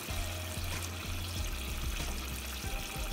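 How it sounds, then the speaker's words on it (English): Mahi mahi fish simmering in sauce in a pan, giving a steady, close bubbling and sizzling hiss with small popping bursts throughout, no voices. "Let the sauce come on top of it and let it simmer for about 2-3 minutes where the fish gets cooked"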